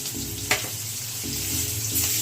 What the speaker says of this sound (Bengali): এই পেঁয়াজটা একটু লাল করে ভেজে নেবো।